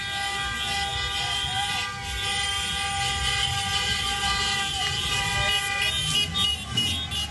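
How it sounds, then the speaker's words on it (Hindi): Car horns honk in celebration of an Israel-Hamas ceasefire in Gaza, a steady, overlapping chorus over a busy street, with a rumble of traffic beneath and no clear pauses. "कार के हॉर्न बजाकर जश्न मनाया जा रहा है"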